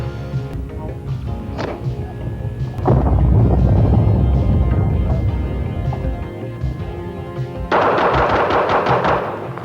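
Revolver shots fired in fast draw shooting ring out as loud cracks, some in quick pairs, with a sustained roar and a denser burst of rapid shots near the end; no talk is heard.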